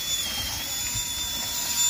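A power drill bores a hole in the front of an RC adventure car to mount a winch servo, giving a steady, continuous whirring grind close up with no talking.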